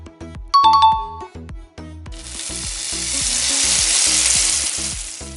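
Sausages frying in a kitchen pan, a steady loud sizzle that swells in after a short bright chime and a repeating low rhythmic pattern, with no talking.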